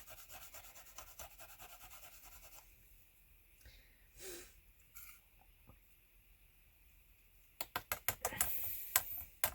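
An embossed card is rubbed to lift ink, with soft scratchy strokes near the start and a faster run of brisk rubbing toward the end, fairly quiet and close.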